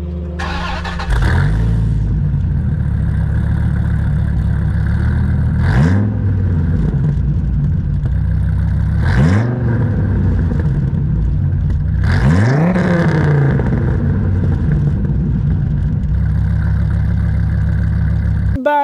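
A second-generation Dodge Viper GTS engine idles with a deep burble, then its exhaust is revved hard four times in spaced bursts, each a loud rising bark that falls back to idle.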